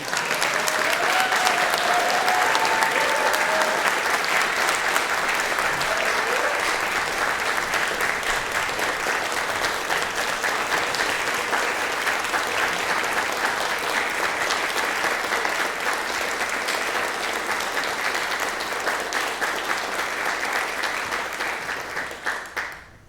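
A big round of applause from an audience at a gathering, right after a singer's performance: dense, steady clapping that holds evenly for over twenty seconds before tapering off at the very end.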